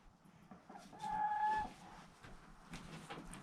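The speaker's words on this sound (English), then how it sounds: "Now all the chickie girls are in here. And the rooster." Hens and a rooster in a new homestead coop give a faint, brief tonal call of about half a second over low rustling background noise.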